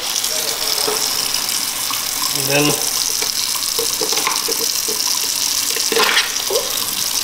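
Hot tap water runs steadily into a sink over crabs, a continuous splashing flow throughout with brief clattering and a voice speaking briefly.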